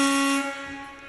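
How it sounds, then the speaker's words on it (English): A truck air horn honks during the Canadian trucker convoy protest in Ottawa, a single loud sustained blast that holds steady and then fades a little, with no talk over it. "we want to make sure we all join in symbolically with the good old honk honk"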